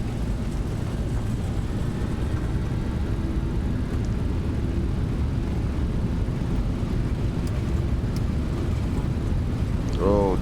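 Boeing 737 engines spooling up to takeoff thrust in a flight simulator on runway 22 at London Stansted, a steady loud broadband roar throughout with little change, a voice briefly heard.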